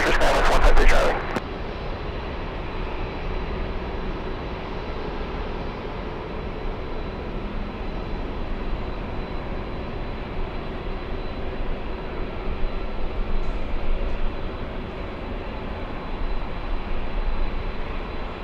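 Broadband jet engine roar of an airliner on its takeoff run at LAX, a steady loud rumble holding across the clip with a brief burst of noise at the start and slight swells later on.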